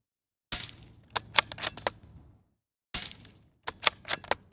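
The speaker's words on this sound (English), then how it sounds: "First up is the Dead Air Mask. I'm gonna shoot out into the distance" A .22 rifle fitted with a Dead Air Mask suppressor fires two quick bursts of several sharp, muffled cracks each, separated by a short pause, with faint echoes trailing off between shots.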